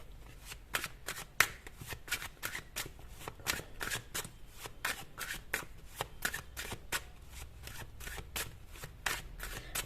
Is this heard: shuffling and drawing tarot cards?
yes